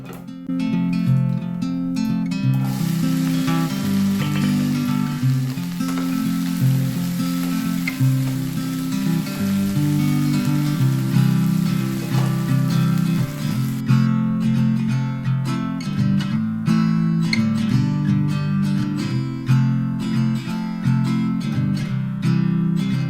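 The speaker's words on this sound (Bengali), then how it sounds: "চলো আগে আমি ভেন্ডি ভাজাটা করে নিই" Okra (bhindi) fries in a pan with a loud, continuous sizzle over a steady tonal background that sounds like music. The sizzle fades about two-thirds of the way through.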